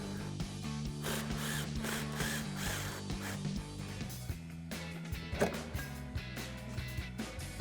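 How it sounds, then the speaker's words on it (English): A hand ratchet with an 18mm socket works a shock bolt on a Jeep Wrangler JL, giving quiet repeated clicking strokes with metallic taps and a few louder knocks, fairly close in an otherwise quiet garage. "grab a ratchet with an 18mm socket and 18mm wrench"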